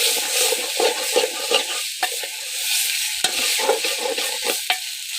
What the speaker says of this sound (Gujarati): આપણે મિક્સ કરી રહ્યા છે મસાલામાં સરસ મજાના